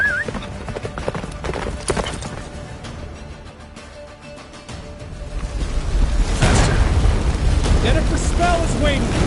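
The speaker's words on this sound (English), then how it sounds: "Faster, Roach. Don't stop" Geralt's horse Roach galloping in The Witcher 3, a fast rhythmic clip-clop of hooves that grows louder and more rumbling in the second half, with game voices and effects over it.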